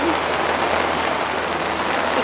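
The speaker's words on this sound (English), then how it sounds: "there's the rain" Steady rain falls at Epcot, a dense even hiss of drops on hard surfaces, loud and close throughout.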